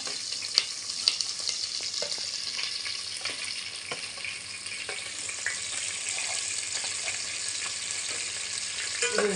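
Green chilies and onions fry in oil in a pot for a murrel fish curry, giving a continuous close sizzle dotted with sharp crackles and occasional utensil clicks, with no voices.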